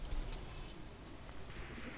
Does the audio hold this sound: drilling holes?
no